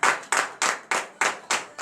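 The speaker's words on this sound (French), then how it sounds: "Donnons de vive acclamation à notre Seigneur Jésus" A congregation claps in unison during a morning prayer service in Comè, Benin: six sharp, evenly spaced claps in quick rhythm, close and loud, with no voices.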